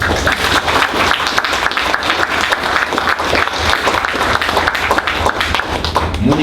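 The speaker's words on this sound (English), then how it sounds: "We clap, clap, clap," Group of people clapping hands together in steady, fairly loud, dense rhythmic claps throughout, with some voices mixed underneath.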